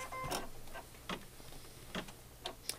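An embroidery machine stitching a Valentine card gives soft, steady mechanical ticking and clicking at irregular intervals over a low motor hum, close and fairly quiet with no talk.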